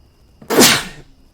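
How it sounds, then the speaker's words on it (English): A single sharp sneeze bursts out close and loud after a short quiet intake, then dies away within a second. "I have a sneeze coming on."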